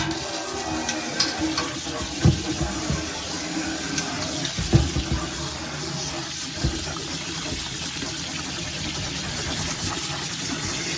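Water runs steadily from a tap in a continuous hiss and splash while braiding hair is cleaned, with a few soft knocks and clinks along the way.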